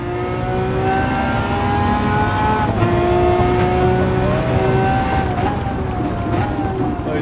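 A powerful car engine in Gran Turismo 7 revs loudly and steadily, its pitch climbing and dipping through the throttle and shifts, continuous and close throughout.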